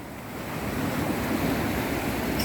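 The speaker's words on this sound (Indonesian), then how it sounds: "deburan ombak dan badai" Ocean surf rolling and crashing on Muarareja beach in Tegal, a steady broad roar of breaking waves with wind, loud and continuous throughout with no voices.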